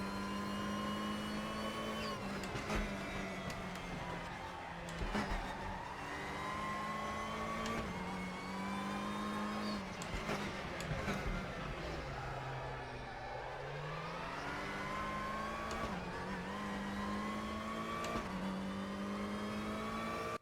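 A race car engine in the RaceRoom racing game holds a steady, loud high-revving drone for the whole stretch, its pitch climbing and dropping through repeated gear changes, with a deeper dip midway, and no voices over it.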